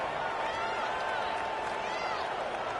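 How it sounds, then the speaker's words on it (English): A stadium football crowd keeps up a steady, broad roar moments after an 18-yard touchdown throw, with no breaks or peaks. "this crowd is buzzing after that last score"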